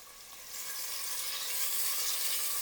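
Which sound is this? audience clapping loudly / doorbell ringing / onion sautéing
onion sautéing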